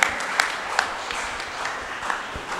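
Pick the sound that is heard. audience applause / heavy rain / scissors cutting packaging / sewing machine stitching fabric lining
audience applause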